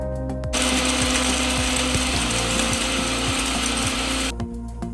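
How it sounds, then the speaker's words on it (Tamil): An electric mixie grinder whirs steadily while it dry-grinds biryani masala spices in its jar for about four seconds, a dense close motor drone with a faint rhythmic rattle, starting and stopping abruptly. "நல்லா மிக்சியில இந்த மாதிரி அரைச்சு எடுத்துக்கோங்க."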